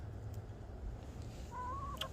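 Older laying hens, kept as healthy backyard chickens, cluck softly in the middle distance over steady low background rumble, with a brief higher call near the end.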